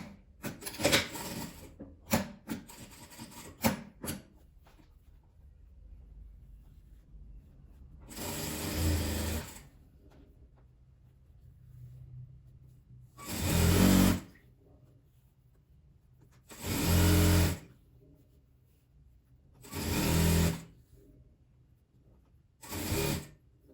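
Sewing machine stitching a seam on an apron made from old jeans: several short bursts of fast motor-driven stitching, each a second or so long, separated by quiet pauses, after some early handling rustles and clicks.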